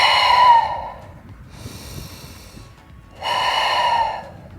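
Deep breathing during a yoga exercise: a slow, audible inhale-exhale cycle with a loud breath, a quieter breath after it and a second loud breath, each lasting about a second, up close with no talking.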